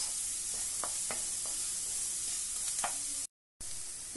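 Onions sizzle steadily in a hot pan with light salt, broadband frying hiss running throughout, with a few soft scrapes and clicks of stirring near the start and a brief cut of silence before it resumes.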